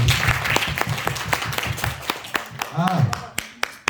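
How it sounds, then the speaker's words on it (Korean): A church congregation claps together during a Wednesday evening worship service, steady applause running under a speaking voice for the whole stretch. "하나님께 영광의 박수를."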